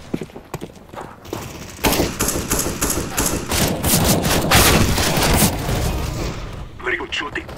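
Rapid gunfire in the Counter-Strike video game, bursts of dense automatic shots rolling on for several seconds, loud and close, with a few quieter shots at the start and end.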